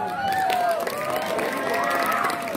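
Students at an Islamic junior high school clap and cheer in a crowded room, a dense patter of hands with shouts and whoops from children on top, lively and fairly close throughout.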